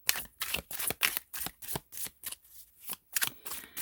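Tarot cards are shuffled during a card reading. About fourteen quick, crisp riffling bursts come in a steady rhythm, close and fairly loud, with no talking.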